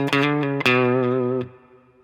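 A guitar with a processed, effects-heavy tone plays a short opening lick: a few quick picked notes, then one sustained ringing note that cuts off and fades, loud and close with no talking.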